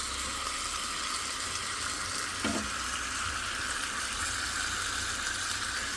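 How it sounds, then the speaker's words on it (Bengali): Dried and green chillies frying with onion in a pan make a steady, close hiss of sizzling oil, with a single short stirring scrape midway. "আমি দুই পদের মরিচ ভাজা নিচ্ছি শুকনো মরিচ কাঁচা মরিচ পেঁয়াজ একটু ভাজা নিচ্ছি"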